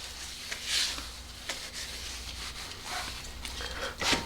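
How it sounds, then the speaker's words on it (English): A cloth rubs across a StopTech brake rotor on a BMW E92 335i, a steady close-up scrubbing with a few louder swipes. "Wipe this one off."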